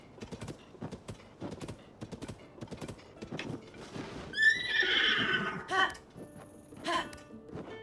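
A horse in Zelda: Tears of the Kingdom gives a loud, wavering whinny in snowy terrain, preceded by steady clip-clop hoofbeats and followed by a few softer snorts and thumps.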